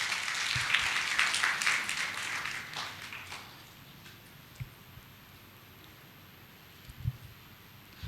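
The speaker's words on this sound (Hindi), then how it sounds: "दोनों के लिए ताली बजा दीजिए" A church congregation at a Sunday service claps for two men, with loud applause for about three seconds that fades into a quiet room with a few scattered taps.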